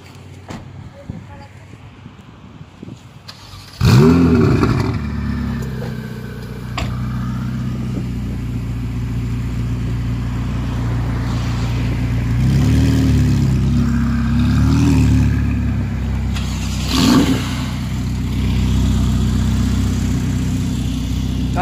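A Ford Mustang engine starts loudly and settles into a steady idle with occasional throttle blips and revs, heard close by on a street among parked supercars.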